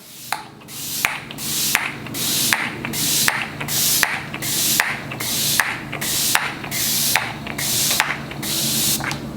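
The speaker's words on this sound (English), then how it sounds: "I'm gonna go ahead and use my NYX Bare With Me Prime Set and Refresh Spray." A NYX Bare With Me Prime Set and Refresh Spray bottle hisses in a long series of short, regular bursts, about a dozen close pumps of fine mist with no talk.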